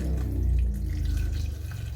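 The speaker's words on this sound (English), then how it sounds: "Add a little water." Water runs into a pot of black-eyed peas, a steady close pour with a low rumbling body that holds for the full two seconds without talk.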